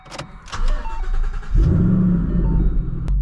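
A 2014 Shelby GT500 on Cup 2 tires starts up with a brief crank, then settles into a loud, deep engine rumble close by.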